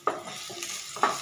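Onions and curry leaves being stirred in a frying pan for pudina rice, with soft close spatula scrapes and light sizzling in a few quick strokes.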